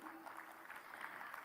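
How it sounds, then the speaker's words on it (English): Applause from the audience at a semiconductor conference panel comes as a steady wash of many hands clapping together, at a moderate level and without pause. "Can we have a big applause, please?"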